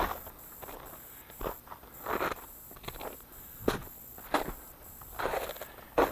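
Footsteps crunch through snow and ice outdoors, close by, in an uneven walking rhythm of crisp crackling treads with short pauses between them. No voice is heard.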